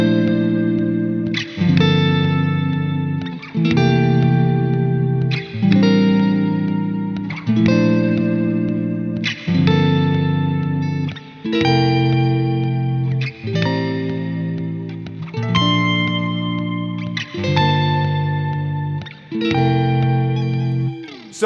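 Layered guitar chords voiced a seventh apart and run through effects, struck as a slow sequence of sustained, ringing chords about every two seconds, each fading under a reverberant wash.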